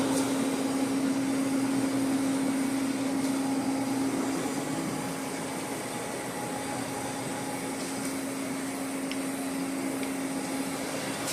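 A Lucas model 41 horizontal boring mill runs under repair after screw replacement, a steady mechanical drone with a strong hum and broadband whir, constant and fairly loud, easing slightly partway through.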